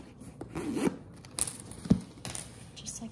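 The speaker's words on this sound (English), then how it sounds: "And then you just zip it all together." A zipper being pulled shut around a fabric organizer, heard as short scratchy rasps close by with soft handling rustles between them.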